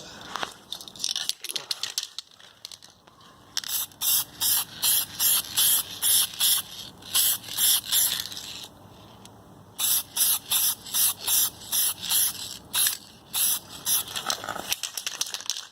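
Repeated rhythmic hissing sprays of cleaner from a trigger bottle onto the bottom of a fridge, close and loud, in steady bursts with short pauses between them.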